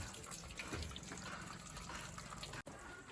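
Clean coolant water pouring steadily into a tractor during servicing, a continuous splashing rush at moderate level with a brief break near the end.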